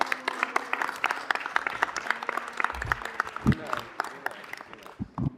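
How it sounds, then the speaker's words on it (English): A crowd at a city council meeting claps in steady, dense applause with scattered cheers, while voices talk over the clapping throughout. "they're just cheering for Coop from last night's football game"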